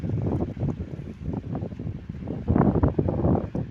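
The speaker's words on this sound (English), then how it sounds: "It's a nice day, a little bit of a breeze." Breeze buffets the microphone outdoors on a morning dog walk in Torrevieja, a steady low rumble of wind that swells louder toward the end.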